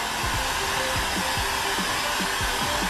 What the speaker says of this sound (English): Heat gun. Here you go! Heat gun.